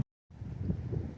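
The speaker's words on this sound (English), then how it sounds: "it's going to be a little bit hard to hear because it's real windy today" Wind on a blustery day buffeting the microphone, a low rumbling gusty roar starting abruptly after a brief silence and holding steady.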